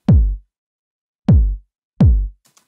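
Three deep, booming 909 drum machine kick hits, each a short punchy thump with a falling pitch tail, unevenly spaced, with nothing else between them.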